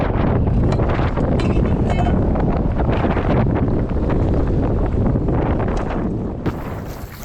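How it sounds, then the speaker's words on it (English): Strong wind buffets a small fishing boat on rough water, a loud continuous roar of gusts and wind noise against the microphone with churning water beneath. "I'm going against the wind, the currents, and the wave."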